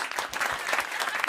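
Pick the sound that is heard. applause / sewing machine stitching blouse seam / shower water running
applause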